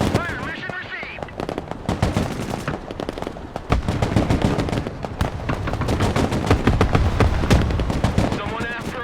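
Artillery fire mission in the war game Broken Arrow: rapid, dense bursts of gunfire and explosive cracks rattle almost without pause, loud and close, while radio voices talk over the barrage.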